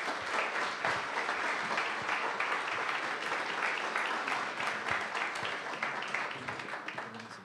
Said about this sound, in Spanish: le damos un fuerte aplauso y bienvenido